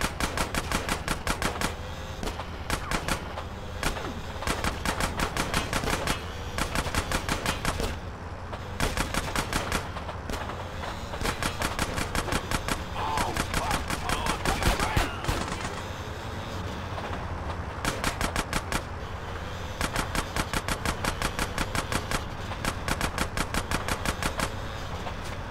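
Bursts of rapid automatic gunfire in GTA San Andreas during a train mission, loud repeated volleys with short pauses over a steady rumbling rail background, no talk.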